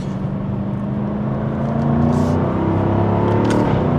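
A Jaguar F-Type V8 sports car engine running loud and close, a steady throaty drone that swells slightly as the revs climb, with no talk.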